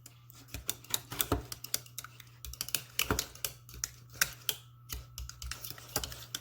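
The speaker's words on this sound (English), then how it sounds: "we're gonna get our plastic fork, and we're gonna mix it inside of the plastic cup" A plastic fork whisks eggs inside a plastic cup held over a stove burner, giving a quick run of light, irregular clicks and taps against the thin cup walls under a steady low hum.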